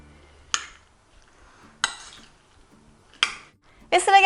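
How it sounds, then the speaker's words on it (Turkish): A spoon mixes strawberries and orange in a bowl, making four separate sharp clinks against the bowl spaced about a second apart, close and fairly loud, with near silence between them. "Şimdi hepsini güzelce karıştıralım."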